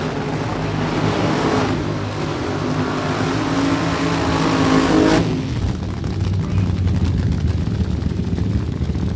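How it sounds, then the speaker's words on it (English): A loud small-block Chevy nitro Funny Car engine roars continuously up close at a drag strip, its broadband rumble swelling before cutting to a rougher, crackling idle. "you can hear the pop and the cackle and the roar of that small block Chevy"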